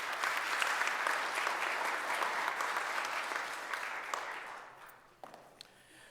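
An audience at a civic event for a citywide business corridor cleaning expansion applauds with dense, steady clapping that gradually thins out and dies away into a few scattered claps near the end.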